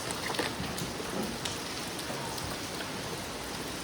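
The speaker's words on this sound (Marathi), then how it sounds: "फुल पावसामध्ये भिजत" Heavy rain pours down steadily on a Konkan road journey, a close, dense wash of drumming drops with no pauses and no voices over it.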